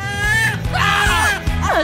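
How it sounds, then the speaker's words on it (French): A person screaming in loud, wavering, high-pitched cries that rise and fall in several bursts, close and intense, with voice-like shrieks overlapping. "C'est quoi ces cris?"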